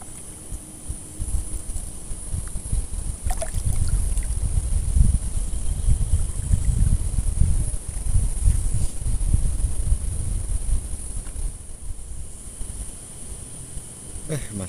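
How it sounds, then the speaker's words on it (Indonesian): Strong wind blows outdoors at a tilapia fishing spot, buffeting the microphone with a steady low rumble and roar that swells and fades through the clip. "Anginnya kenceng."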